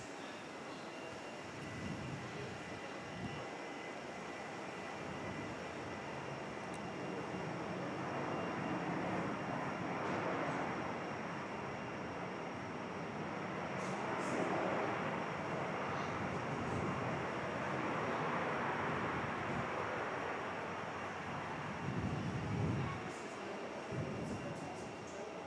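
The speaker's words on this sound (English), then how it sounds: "that aircraft touching down now on 24" A passenger aircraft touching down on runway 24 at Perth Airport, a steady broad engine and rolling roar that swells around the middle and holds at a moderate distance, with no clear talk over it.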